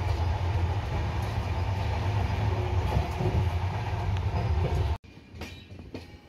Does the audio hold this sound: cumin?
no